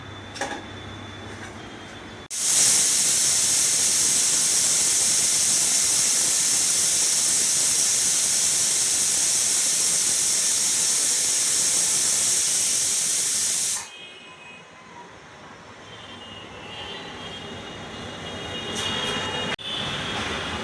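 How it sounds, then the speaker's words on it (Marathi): A pressure cooker cooking matki sprouts lets out one long, loud, steady steam whistle lasting about eleven seconds, then cuts off and leaves a quieter kitchen background. "आपल्या दोन शिट्या झाल्या आहेत"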